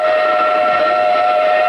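A 300-ton steam locomotive, the V1213, runs with a steady loud tonal whistle-like hum over continuous rumble, close and constant throughout.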